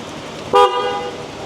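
A single short horn blast from a 2022 Vespa Sprint scooter sounds at close range, clear and bright, lasting about a tenth of a second over a quiet engine-like background.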